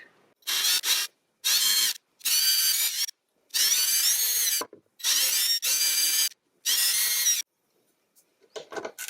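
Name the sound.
drilling a small pilot hole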